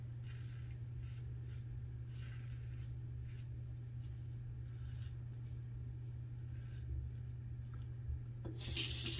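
Tap water runs steadily into a sink while a razor is rinsed, a moderate continuous splashing stream with faint handling clicks and a brief louder splash near the end.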